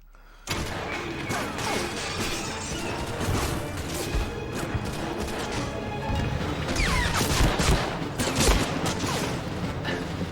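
Dense, continuous gunfire and explosions fill a Medal of Honor Frontline battle. Rapid crashes and bursts keep up without pause at high level over a game soundtrack.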